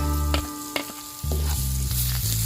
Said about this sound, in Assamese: এয়া কাৰি পাতা কেটা আমি ইয়াতে দি দিম